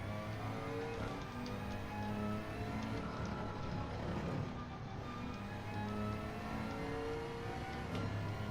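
Race cars in Gran Turismo 7 at Barcelona drone and rev steadily, a faint, continuous engine whir with shifting pitch and no speech over it.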